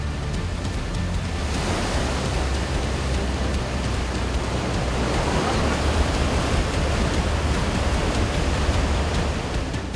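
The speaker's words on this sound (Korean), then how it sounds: "그야말로 집어삼킬 듯 일렁이는 파도." Sea waves surge at the entrance of an Indonesian swiftlet-nest cave, producing a loud, unbroken roar of rushing, churning water that swells slightly toward the end.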